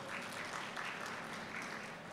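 A crowd applauds at a Tamil public speech, with steady dense clapping filling the whole stretch at an even level and no voice on top.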